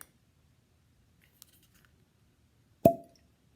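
Cork pulled from a bottle of Glenmorangie 18-year single malt scotch, a single crisp pop after near silence with a few faint clicks before it.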